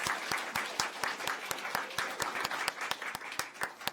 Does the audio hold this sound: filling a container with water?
no